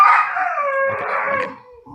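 A dog howls with a sustained, wavering tone that breaks into brief yips near the end, loud and close in an indoor room.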